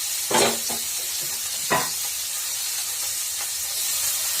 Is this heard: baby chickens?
no